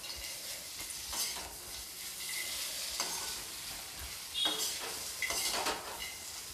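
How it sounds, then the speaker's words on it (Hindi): A spoon stirs roasted vegetables into masala in hot oil, giving a continuous soft sizzle with scraping strokes against the pan. Occasional clinks of utensil on metal break through. "मैं इन सब्जियों को अच्छी तरीके से मसाला के साथ मिला लूँगी।"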